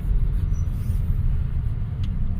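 A road in Bekasi sits in a total traffic jam at night. Low, rumbling engines idle and crawl nearby in a steady, muffled wash of vehicle noise.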